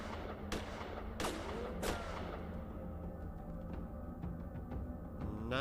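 Gunshots crack in the point-and-click video game Gemini Rue, a few sharp separate reports with lighter clicks between them over a steady background hum.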